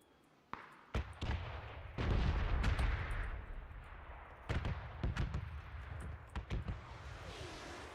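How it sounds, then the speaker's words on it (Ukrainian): Several sharp gunshots crack out at irregular intervals in the video game PUBG: Battlegrounds, some in quick pairs, with a rumbling burst of fire in the middle and no talking. "Ще там хтось стріляє."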